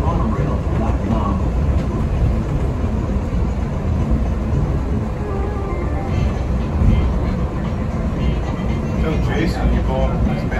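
A Las Vegas Monorail train is ridden from the inside, with a steady low rumble and rolling rail noise throughout and faint chatter in the car.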